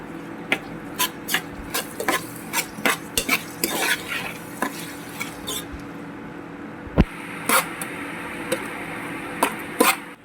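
Onions with salt cooking in a pan for Kathiawadi garlic chutney, stirred with a spoon in repeated scraping clinks over a steady low sizzle. The sound is close and there is no talk.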